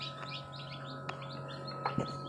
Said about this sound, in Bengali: ইতিমধ্যে বুঝে গেছেন হয়তো কিচিরমিচির শব্দে।